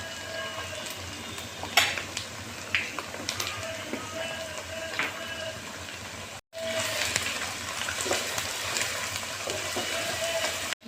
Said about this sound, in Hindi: अब ये हमारी चिकन अच्छी तरह से फ्राई हो गई है